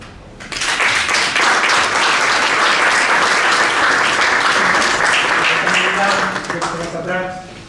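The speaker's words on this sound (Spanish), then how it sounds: "Es un aplauso para él." Audience at a book presentation on historical memory in Madrid applauds warmly, a loud, sustained round of clapping that starts abruptly and runs for several seconds before a voice begins speaking as it tapers.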